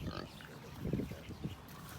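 Piglets on a pig farm grunt and oink in short, low bursts close by, a few louder grunts rising over a steady pen murmur, with soft speech-like vocal sounds mixed in.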